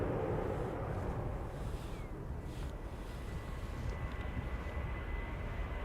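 Ryanair airliner departing Schiphol for Dublin, a faint, distant steady engine rumble with a soft whine, fairly even and low in level, with no voices.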